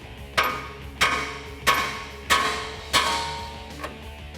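Five evenly spaced metallic hammer blows ring out, followed by a sixth lighter tap, as a tie rod end is knocked loose on a RAM 1500 pickup. The strikes are loud and close, each one sharp with a short ringing decay.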